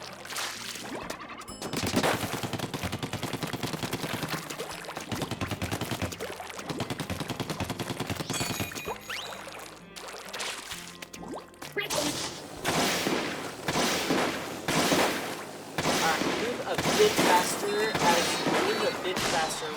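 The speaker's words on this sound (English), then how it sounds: "While you're firing the inkjet" The Inkjet special weapon firing in Splatoon 3, bursts of rapid popping shots and splattering ink in several separate volleys, with a voice talking at times between and over them.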